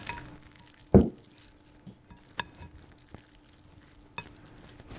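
Chorizo green chile cornbread stuffing stirred in a bowl, soft scraping and mixing sounds with one sharp knock of a utensil and a few lighter taps, close and quiet.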